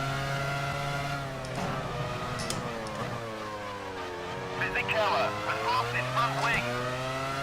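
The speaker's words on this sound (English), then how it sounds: "Now that engine sound behind me is gonna put me" Rival Formula One car engine in the F1 Challenge 99-02 racing game at San Marino, a high droning whine that rises and drops with gear shifts, close behind, with a voice talking over it.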